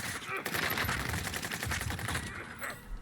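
Rapid, dense gunfire in Call of Duty Warzone, a fast run of sharp reports lasting the whole stretch with scattered impacts, loud and close, with no talk over it.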